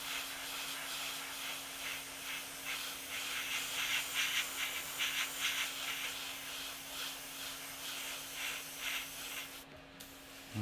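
Airbrush blowing plain air to dry paint on a 1/35 scale AH-6 Little Bird model helicopter, a steady soft hiss running close and continuous with slight fluctuations before cutting off near the end.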